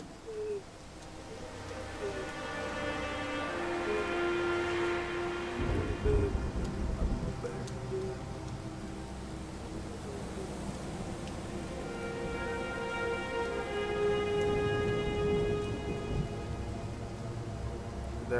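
Steady rain hisses across the whole stretch in the video game Blues and Bullets, with low rumbling swells and sustained musical tones layered over it, moderately loud and continuous.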